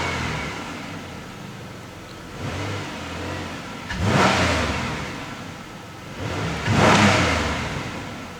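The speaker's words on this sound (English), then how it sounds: "Seems to be idling okay." A 2008 Pontiac Grand Prix engine runs at idle after throttle body and mass air flow sensor cleaning, a steady low hum broken by two brief revs that swell and fade, heard up close with no voices.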